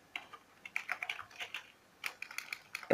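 Quick bursts of light, close key clicks come from a computer keyboard as code is typed, with brief pauses between the runs of keystrokes.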